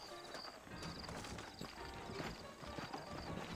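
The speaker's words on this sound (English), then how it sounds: "I got the horses saddled up and ready out front." Saddled horses' hooves clip-clop at a steady walking pace in the Red Dead Redemption video game, fairly faint and continuous, with a soft ambient bed of game sound around them.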